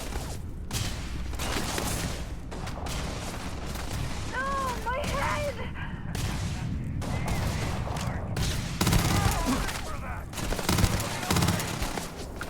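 Gunfire in the video game Starfield: rapid bursts of shots and clattering weapon noise across a firefight, with brief pauses, whooshing effects and someone talking intermittently.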